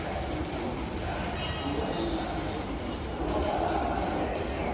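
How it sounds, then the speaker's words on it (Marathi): Subway train at the Higashi-Ginza station platform in Tokyo, a steady rumble of cars rolling along the track with brief wheel squeals over the ambient hum of the underground station. "इथून आपल्याला एक ट्रेन पकडायची हिगाशी घिंजा म्हणून तर ट्रेन येतच असेल"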